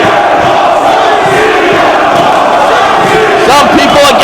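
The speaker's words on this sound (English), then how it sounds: "Punk, you hear the crowd behind him." Wrestling arena crowd roaring steadily behind CM Punk, a dense, loud wall of cheers and shouts with a few louder swells near the end.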